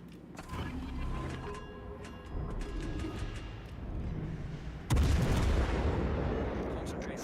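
Naval artillery in World of Warships Legends: ambient battle noise with faint mechanical hums, then a sudden loud gun blast near the end that rolls into dense, rumbling gunfire.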